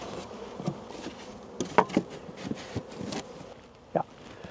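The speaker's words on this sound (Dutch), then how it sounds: "nu zie je heel veel bijen hier naar beneden gaan" Honey bees buzzing around a hive entrance at the bottom of a Dadant hive, a low steady insect drone with a few brief louder passes close by, no talk.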